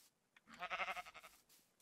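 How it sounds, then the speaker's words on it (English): A Minecraft sheep gives a single wavering bleat, fairly faint and close, lasting about a second in an otherwise quiet game scene. "Oh, there's even sheep on this side!"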